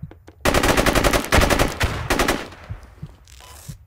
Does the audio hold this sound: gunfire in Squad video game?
yes